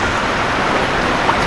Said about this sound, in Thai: โอ้บรรยากาศเนาะพี่น้องฝนตกได้เลยพี่น้องโคตรได้เลย